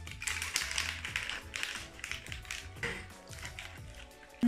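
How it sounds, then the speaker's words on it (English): Cocktail shaker holding black tea, milk and ice cubes, shaken steadily with a quick rhythmic rattle of ice against the container, close and fairly loud throughout. "And now shake it for about 20 times."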